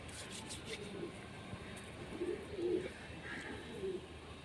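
Rampuri pigeons coo softly in a few low, murmuring bursts at a loft, set against a steady outdoor hiss and faint background noise.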